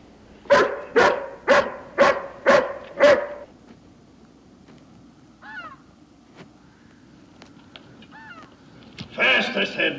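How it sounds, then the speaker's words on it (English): A hound barks loudly five or six times in a steady rhythm, followed by quieter outdoor sounds with a few distant bird calls and a closing burst of noise. "Can't you temper this hound some?"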